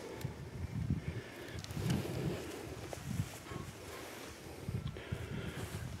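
Wind gusting across a microphone outdoors at a rabbit-shooting spot with a .17 HMR rifle, a steady low rumble with buffeting surges throughout, no voices.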